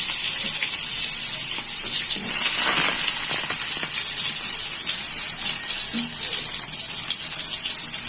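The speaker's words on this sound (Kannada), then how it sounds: "ಇವಾಗ ಈರುಳ್ಳಿ ಏನು ಹೆಚ್ಕೊಂಡಿದ್ನಲ್ರಿ ಆ ಈರುಳ್ಳಿಯನ್ನು ನಾನು ಹಾಕ್ಕೊಳ್ತೀನಿ" Chopped onions go into hot oil for tempering while making a simple potato stir-fry, giving a steady, loud broadband sizzle that hisses on continuously throughout, with no voices.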